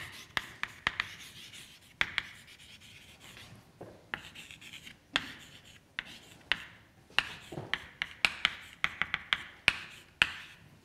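Writing on a board during a physics lecture on quantum gravity gives sharp, uneven taps and short scratches, sparse at first and then coming more often, with no talking.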